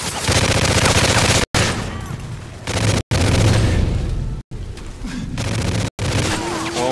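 Loud, sustained gunfire in a competitive online shooter video game, dense bursts of shots and booms filling the clip, broken by a few abrupt silent gaps.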